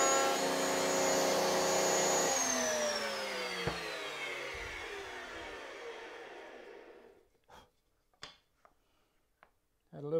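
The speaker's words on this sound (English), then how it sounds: "Had a little bit of a wobble with the bandsaw there." A woodworking bandsaw used for a keepsake box hums loudly and steadily, then winds down over several seconds, its whine falling in pitch. A few close knocks of handling follow in the near quiet.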